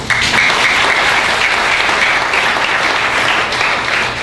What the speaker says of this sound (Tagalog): Mas malakas yung palakpak